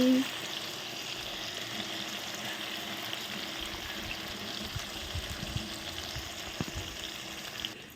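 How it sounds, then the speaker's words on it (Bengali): Taro pieces fry with salt and turmeric in hot oil, a steady dense sizzle, close and moderately loud, with a few faint clinks and stirring scrapes and no talking. "এখন কচুটা ভেজে নেব কচুর মধ্যে দিয়ে দেবো আমি লবণ আর হলুদ"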